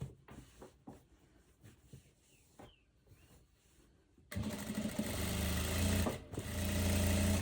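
A sewing machine runs a seam on a viscose dress: a few quiet handling rustles and taps first, then the motor kicks in loud and steady with a fast whirring buzz that continues to the end.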